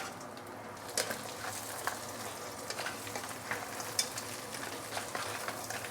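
Crab pieces stir-fried with browning garlic in a home wok, a steady close sizzle and crackle of frying with sharper spatters and scraping stirs breaking through now and then, no voices.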